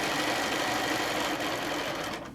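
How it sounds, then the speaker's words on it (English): A sewing machine stitches a quilt in one continuous, fast, whirring run that stays close and steady, then slows at the very end. "and we'll stitch down to the bottom."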